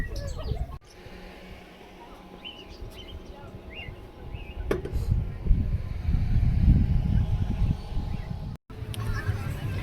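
Assorted exotic birds chirp and call intermittently in the background while a crowd murmurs and people chatter nearby throughout.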